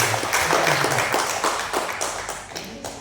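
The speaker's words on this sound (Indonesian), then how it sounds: "Tepuk tangan dulu untuk suster" An audience at a Catholic religious-educators' workshop session claps briefly for a nun, a short burst of hand claps mixed with room noise and some voices.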